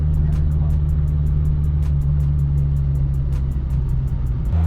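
Mini car engine running on a first drive while needing a tune-up, a steady low drone with a regular ticking pulse, fairly close and continuous, with a brief change in tone near the end.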